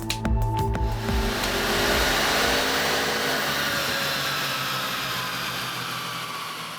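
A tuned car engine roars on a dyno, loud broadband rushing that swells after a few sharp initial bursts, then slowly fades as the run winds down, with no talk over it.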